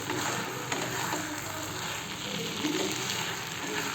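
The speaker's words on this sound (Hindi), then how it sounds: "ब्रेड डाल के अच्छे से इसको मिक्स कर लेती हूँ" Brown bread pulao sizzling in a kadhai while being mixed, a steady close frying hiss with faint scraping of stirring underneath.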